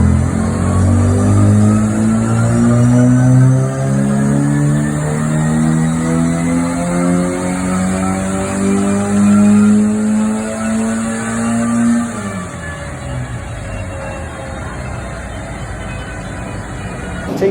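A rally Mini's engine screams on a car dyno near 8,000 RPM, a loud sustained revving note that climbs steadily, then drops away as the throttle closes toward the end.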